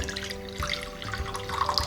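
Dissolved jaggery water for panakam poured through a strainer, a steady close trickle and splash running throughout without any talk.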